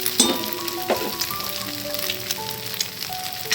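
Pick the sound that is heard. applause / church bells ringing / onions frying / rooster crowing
onions frying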